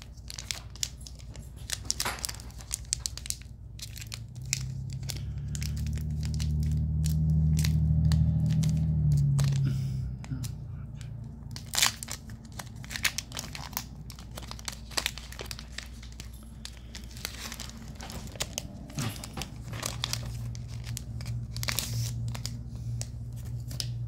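Foil wrapper of a Pokémon Violet trading card pack being torn and crinkled open, a long stretch of crackling rustle with a louder crumpling swell partway through, close and with no speech.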